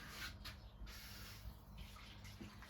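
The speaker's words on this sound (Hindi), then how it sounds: "इसमें थोड़ा सा मैं पानी डाल लेती हूँ" A little water poured into garlic-ginger paste while making biryani, a faint, steady trickle running through the whole stretch with no voices.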